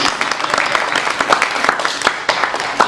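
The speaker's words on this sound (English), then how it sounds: "I think we should give a round of applause for Mr." Audience applause at an African film festival symposium, a dense steady wash of many hands clapping at close range for about three seconds without a break.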